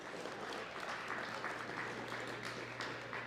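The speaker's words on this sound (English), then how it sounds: "Give yourselves a round of applause." Competitors at a FINA adult and masters qualifier applaud themselves after difficult courses; an even, sustained wash of clapping, moderately distant, with no pauses.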